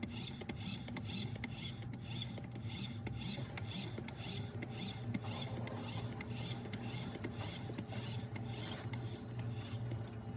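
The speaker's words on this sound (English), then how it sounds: "Manually operate the actuator hand wheel counterclockwise until the valve reaches the desired open position." A hand wheel on a Bray S70 NXT valve actuator is turned by hand counterclockwise, giving a continuous rasping, ratcheting scrape with regular clicks about twice a second, close but faint, with no voices.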